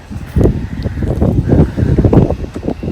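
Gusts of wind buffet a microphone in a university arboretum park in Chernivtsi, rising and falling in uneven rumbling pulses, close and fairly loud, with no talking.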